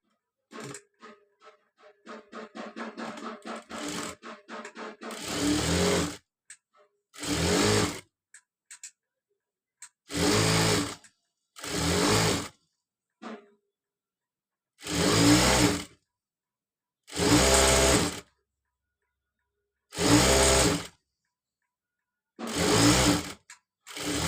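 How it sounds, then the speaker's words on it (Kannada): Piping fabric is stitched on a sewing machine, beginning with a quick run of light ticking, then settling into repeated loud bursts of mechanical whirring, each about a second long, separated by short pauses and with no speech. "ಈ ಥರ ಮಾಡಿಕೊಂಡು ಹೀಗೆ ಸ್ಟಿಚ್ ಮಾಡ್ಕೋತೀನಿ"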